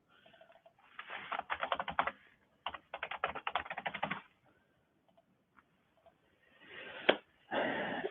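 Quick bursts of typing on a computer keyboard, two dense runs of rapid key clicks separated by pauses, then a louder clatter near the end, heard alone with no talking.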